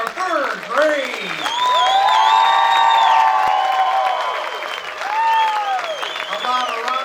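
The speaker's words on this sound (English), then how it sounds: "A big round of applause for our third grade." Audience at an elementary school third grade concert claps and cheers loudly throughout, with whoops rising over steady applause and voices mixed in.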